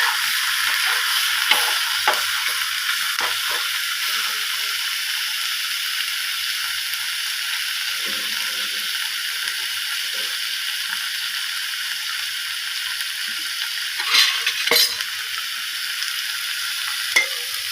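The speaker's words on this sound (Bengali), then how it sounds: "ভালো করে মশলাটাকে কষিয়ে নিয়ে তারপরে মাছটা দেবো।" Spice masala with salt and turmeric sizzles steadily in hot oil while being stirred, a loud, close, continuous fry with a few scraping strokes near the end.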